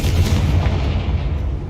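A Confringo fire spell blasts in Hogwarts Legacy, a loud, dense rumbling boom with crackling spread across the whole short stretch, staying strong without a break.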